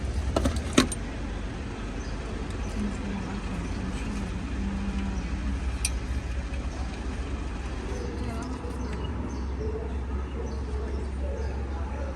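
Keys to a new 2022 Isuzu vehicle are set down with a brief jangle near the start. A steady low vehicle hum and faint voices continue for the rest of the clip.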